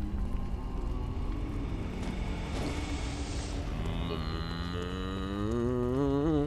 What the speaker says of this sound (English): Sounds like cows.